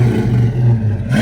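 A car engine revs at a gear-banging car event, a loud, close, throaty drone rising and holding for about a second before dipping, with a rumbling exhaust tone.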